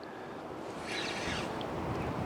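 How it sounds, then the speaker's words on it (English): Soft wind gusts rush past outdoors by the water during pike fishing, a low steady blow that swells briefly midway, with no voices. "the sun's actually gone away and it's got a bit windy"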